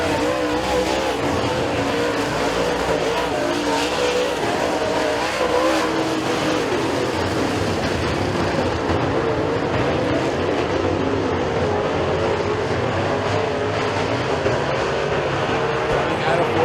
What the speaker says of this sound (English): Some tight racing between Tony Murado and Bump Hedman for 5th